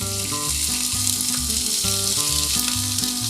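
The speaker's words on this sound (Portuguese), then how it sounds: "eu já coloquei um azeitinho de oliva aqui na minha panela, na minha frigideira, para que ela comece a aquecer e a gente entre com esses ingredientes" Red onion frying in olive oil in a pan gives a steady, loud sizzling hiss throughout, with tonal background music playing underneath.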